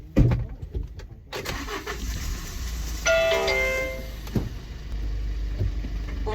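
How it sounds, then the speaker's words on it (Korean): A car engine cranks and starts during a Korean driver's licence skills test, with a chime sounding as it catches and the engine then settling into a steady idle inside the test vehicle. "5초 내에 엔진 시동을 거세요."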